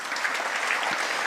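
An indoor seminar audience applauds for Mr. Park, a dense, steady patter of many hands clapping at once with no breaks.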